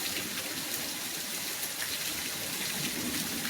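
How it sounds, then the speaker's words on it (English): Steady heavy rain pours down in a broad, unbroken hiss, loud and close, after a long dry spell of two to three months, with no break across the whole stretch. "There's just a little let up, but we got a whole lot of rain coming down."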